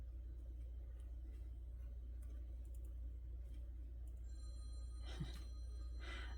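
A faint electronic alarm tone from a phone starts near the end, with steady high beeping pitches over a low constant hum and scattered ticks, at a camp.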